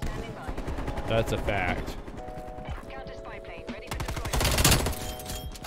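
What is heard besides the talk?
Streetsweeper shotgun hip-fire shots in video game Cold War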